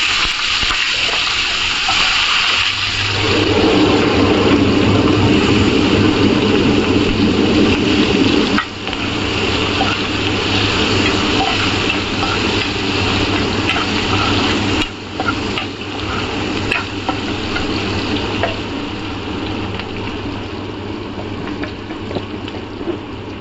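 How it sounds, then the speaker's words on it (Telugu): Onions and green chillies hit hot oil for an egg tomato curry, giving a loud, steady broadband sizzle that surges after a few seconds and holds throughout with small dips, no voices present. "ఆనియన్స్ పచ్చిమిర్చి కట్ చేసి పెట్టాను వేసుకోవాలి ఆయిల్లో"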